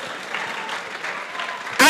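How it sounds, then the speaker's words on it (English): Audience at a career expo gives a round of applause after a college presentation, moderate steady clapping in a hall that ends abruptly in a loud burst of noise. "A round of applause once again, ladies and gentlemen."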